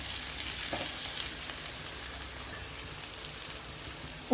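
Potatoes frying in a pan for urulaikizhangu podimas, a steady soft sizzle like light rain, with a faint stirring scrape or two and no speech.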